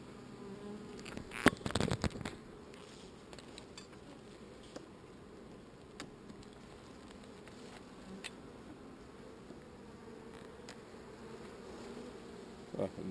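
Honeybees buzzing around an open hive during a honey harvest, a continuous low drone of many insects close by, with a few brief clatters and knocks from handling the frames, no talking.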